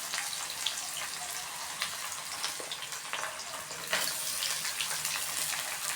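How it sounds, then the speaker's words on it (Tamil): Chopped onions sautéing in a pan for a Tamil cauliflower egg poriyal, giving a steady, close hiss of frying with a few soft pops and clicks throughout, with no talking. "வெங்காயம் நல்லா வதங்கட்டும்."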